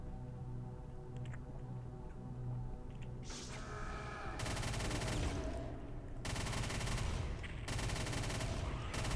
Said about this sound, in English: chain gun is a lot like the chain saw. It rips and tears through a lot of meat,